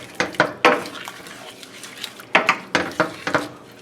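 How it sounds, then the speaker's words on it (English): Pepper steak and sauce are mixed in a pan, with a rapid series of metallic scrapes and clanks from the utensil against the pan, loud and close, with no speech. "Give this a mix."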